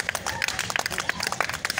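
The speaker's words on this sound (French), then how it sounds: "Acclamez pour le Seigneur." A church congregation claps for the Lord during a worship service: a dense, uneven patter of hand claps from many people at once, with voices mixed in.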